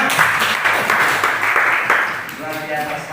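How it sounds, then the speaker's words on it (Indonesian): A room full of people claps steadily and loudly, a dense wash of applause with a voice rising briefly near the end. "Ya, tepuk tangannya teman-teman."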